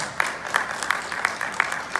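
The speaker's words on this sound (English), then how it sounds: "Some of you that are clapping." Scattered clapping from a comic con panel audience, a handful of hands heard as loose, spaced claps over a steady crowd hiss, moderately close.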